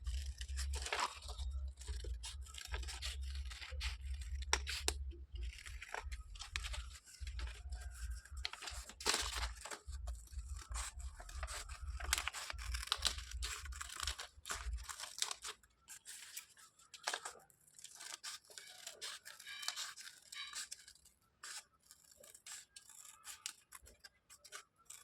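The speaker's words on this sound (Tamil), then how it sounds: "நான் சேமாகவே வச்சு கட் பண்ணுறேன்" Stacked colored paper circles are cut with scissors, a long series of close crisp snipping and crunching cuts in irregular bursts, with a low hum beneath for the first part and quieter cuts afterward.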